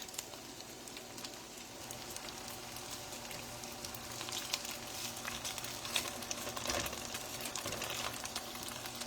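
Food sizzles steadily in a skillet while pieces are flipped and stirred, a continuous crackling hiss that swells slightly toward the end, with no talking.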